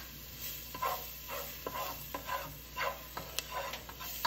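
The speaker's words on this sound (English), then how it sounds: "So we're sauteing the shallot and we're toasting the seasonings." Shallot and seasonings sautéing and toasting in a pan, with a steady light sizzle broken by repeated scraping stir strokes every half second or so, close up, no voices.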